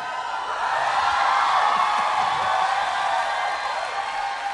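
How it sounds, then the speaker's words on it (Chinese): Audience applause at the Hong Kong Drama Awards ceremony, a steady wash of clapping from a large crowd that swells and holds for a few seconds. "咁好掌声"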